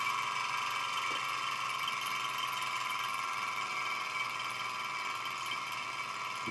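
A small SunnyTech Stirling engine runs with a steady, fast mechanical whir and ticking hum, constant and close throughout with no pauses.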